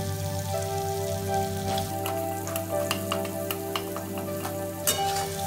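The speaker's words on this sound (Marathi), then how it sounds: "त्याच्यामध्ये आपल्याला कांदा टाकून चांगलं मस्त परतून घ्यायचं आहे।" Chopped onion and tomato sauté with a spoonful of jaggery in a pan, giving a steady close sizzle with scraping stirs and brief clinks across the clip, over a faint continuous tonal hum.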